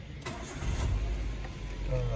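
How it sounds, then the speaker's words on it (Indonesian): A Toyota Avanza engine cranks and catches, then settles into a low idle, fairly quiet beneath someone talking. "kita akan menghidupkan engine dari mobil"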